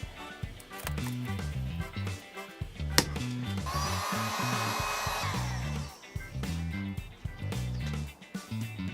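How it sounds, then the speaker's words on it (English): A heat gun blows hot air across a vinyl decal to lift it off, a loud continuous whoosh mixed with background music, swelling briefly in the middle and then easing back. "got an edge peeled up, use my heat gun, and really kind of make sure you keep it moving"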